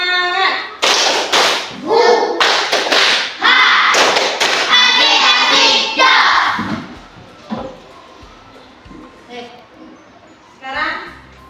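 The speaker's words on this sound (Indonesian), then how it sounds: "tepuk semangat" A classroom of pupils performs a rhythmic spirit clap, loud bursts of synchronized clapping mixed with chanting voices, followed by quieter scattered talk and a final short clap.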